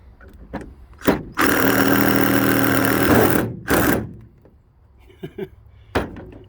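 Power drill driving a screw through a Crescent bit holder, a loud close motor whine that holds for about two seconds, followed by a shorter burst and a few clicks and handling knocks.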